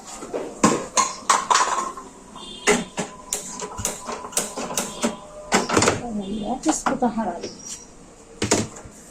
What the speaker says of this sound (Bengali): এবার আমি কড়াটা বসিয়ে দিচ্ছি।